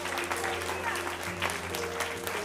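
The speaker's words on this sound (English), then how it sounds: "Come on, lift your voice with that hand clap." A church congregation claps in praise during an evangelist's service, a dense, steady round of hand claps from a crowd, with a voice speaking over it.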